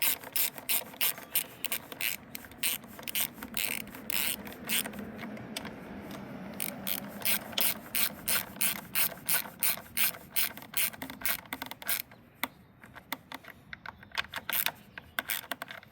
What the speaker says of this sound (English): And then just tighten everything back up.